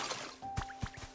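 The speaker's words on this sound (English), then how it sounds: "Let me water this grass." Watering grass in the video game Pokémon Pokopia: soft splashy liquid bursts land twice in quick succession over a faint steady game tone, close and gentle.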